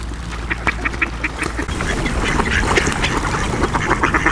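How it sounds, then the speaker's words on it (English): Ducks quack repeatedly in short, clustered calls close by at Sanders Park in Bromsgrove, with a busy outdoor background that grows louder toward the end. "finish feeding the ducks and pigeons and whatever"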